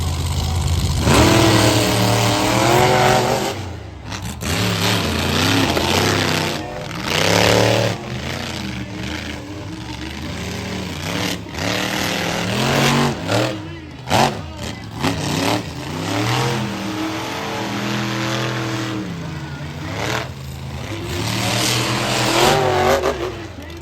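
Monster truck engines rev and roar at a Monster X Tour Saturday night race in Granite City, Illinois, loud and close with repeated throttle bursts rising and falling, a brief drop near four seconds and again near fourteen.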